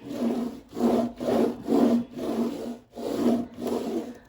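A roller is pushed back and forth over a completed diamond painting, giving rhythmic, scraping, rubbing strokes, about seven close, loud passes with brief pauses between them.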